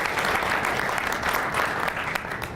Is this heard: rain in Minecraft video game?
no